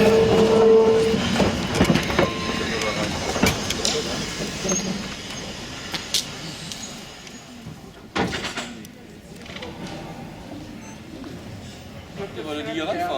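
A Rittner Bahn narrow-gauge train in South Tyrol rolls in with a steady rumble and wheel clatter, sharper clanks and knocks breaking through, while people talk close by.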